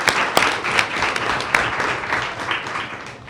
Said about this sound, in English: Give Aiden a round of applause.